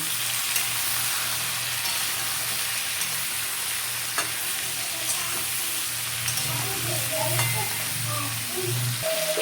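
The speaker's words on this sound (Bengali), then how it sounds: "নুন এক চামচ দিয়ে দিলাম হলুদের গুঁড়ো এক চামচ দিয়ে দিলাম এখন একটু নেড়ে দেব" Salt and turmeric get stirred into vegetables (jackfruit seeds, potato, drumstick and pumpkin) in a pan, with a steady close sizzle throughout, faint spoon clicks and scrapes now and then, and a low hum underneath.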